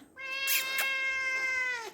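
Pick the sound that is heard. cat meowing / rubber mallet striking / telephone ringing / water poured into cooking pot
cat meowing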